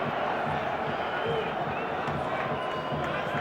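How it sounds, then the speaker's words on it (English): Large football stadium crowd at an Intercontinental Cup match between Ajax and Grêmio, a steady broad roar of cheering and noise held at constant level throughout, with a commentator's voice faintly over it. "The crowd warming to this one."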